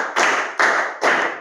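Group clapping in unison during a clapping game, three sharp, loud claps spaced about half a second apart.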